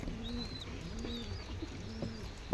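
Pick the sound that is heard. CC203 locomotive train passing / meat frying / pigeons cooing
pigeons cooing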